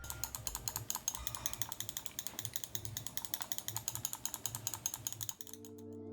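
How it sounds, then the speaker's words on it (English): Corsair M65 Pro RGB gaming mouse with Omron switches on its primary left and right buttons, clicked rapidly and repeatedly. A steady stream of crisp, close, sharp clicks plays alone before stopping abruptly. "The primary left and right buttons use Omron switches, which have great tactile feedback"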